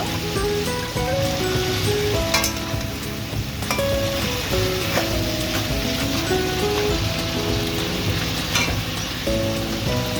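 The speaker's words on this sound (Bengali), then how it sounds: "ভালো করে ভেজে নেব" Fish heads fry in hot oil in a kadai for a lentil muri ghonto, giving a steady, dense sizzle and crackle throughout, close up with no talking.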